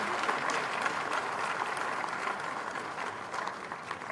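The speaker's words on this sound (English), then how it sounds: "A round of applause for him." Steady applause from a convocation lecture audience welcoming a speaker, continuous clapping at a moderate level throughout with no voices standing out.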